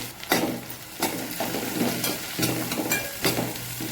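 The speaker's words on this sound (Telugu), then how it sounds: "ఆనియన్స్ పచ్చిమిర్చి బ్రౌన్ కలర్ చేస్తూ ఫ్రై చేయాలి" Onions and green chilies fry in oil, a continuous close sizzle broken by regular scraping stirs of a spatula against the pan, roughly one sharp stroke every second.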